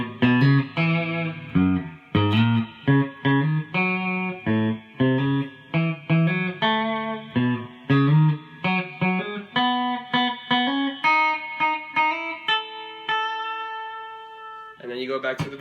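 Guitar plays a song riff, a run of plucked, hammered-on notes with a clear, slightly effected tone, picked notes in a steady rhythm ending on sustained ringing notes.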